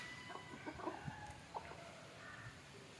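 Country chickens cluck softly at a distance, with a few short scattered clucks over a steady low background hiss.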